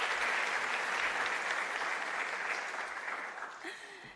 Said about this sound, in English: Let's give a round of applause for Ndabi